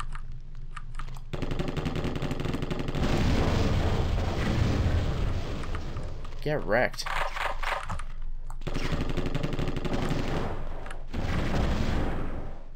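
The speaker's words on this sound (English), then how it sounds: "Oh, their explosions actually do hurt me." Continuous heavy explosions and rapid gunfire in The Terminator: Future Shock, loud rumbling blasts with a short break in the middle, and someone briefly speaking over the action.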